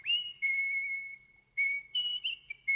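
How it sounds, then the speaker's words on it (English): A ruby whistle gives a clear, steady high tone in several sustained blasts with brief breaks and small pitch shifts between them, heard alone and fairly faint. "He sat in his palace and whistled his ruby whistle."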